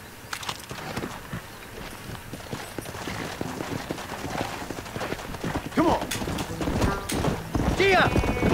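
Horse hooves clatter in a fast galloping rhythm in Red Dead Redemption, growing louder through the clip. Voices talk over them, with a short whinny near the end.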